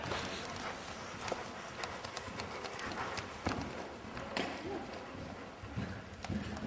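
Horse hooves in a riding lesson, a steady clip-clop of hoofbeats on arena footing with occasional heavier thuds, mid-distance, while an instructor talks over it.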